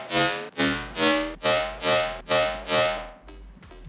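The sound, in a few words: synthesized riddim bass made in Serum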